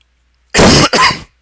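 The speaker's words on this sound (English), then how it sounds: "Sorry about the coughing." A person coughs twice in quick succession, loud and close to the microphone, with silence before and after.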